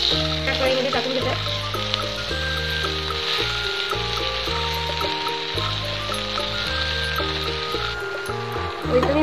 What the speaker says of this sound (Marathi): मी अगोदरच मेथीची भाजी धुवून घेतलेली आहे। त्या कढईमध्ये टाकून घेते।